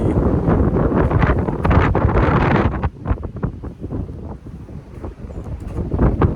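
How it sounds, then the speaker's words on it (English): Strong, cold wind buffets the microphone outdoors in Boston with loud rumbling gusts, easing after a few seconds into a gustier, choppier rush. "Oh, it's cold out here today. It's windy."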